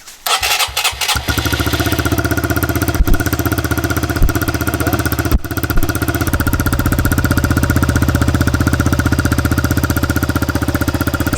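Honda CRF125FB dirt bike fitted with an FMF exhaust, cold-started: a few sputtering cranks, then the engine catches into a loud, close, rapid-firing idle with a couple of brief blips, running steadily throughout.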